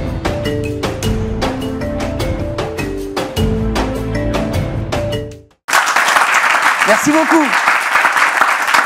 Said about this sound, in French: Ça fait plaisir de retrouver notre public habituel avec tous ces applaudissements